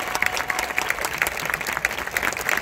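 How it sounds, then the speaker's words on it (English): Crowd applause for marching band students fills the air at a band invitational, a dense, loud burst of many hands clapping at once, steady throughout with no voices on top. "Can you give your students a big round of applause?"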